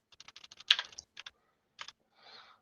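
Irregular bursts of computer keyboard typing while setting up a Windows 11 reinstall, close and fairly loud, with short runs of keystrokes separated by pauses and a softer rustling burst at the end; no talking.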